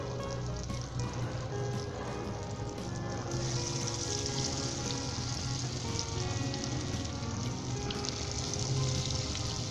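Small spoonfuls of pakora batter for Punjabi kadhi frying in hot oil, a steady, loud, continuous sizzle and crackle that brightens partway through, with no talking.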